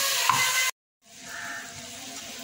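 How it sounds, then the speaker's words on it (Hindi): Chicken sautéing in a pan for Lahori chicken pulao, a steady broadband sizzle that cuts out briefly and returns a little softer, close and continuous with no talking. "पाँच से छः मिनट हम चिकन की भुनाई करेंगे।"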